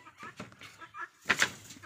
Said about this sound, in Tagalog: Inahin na to guys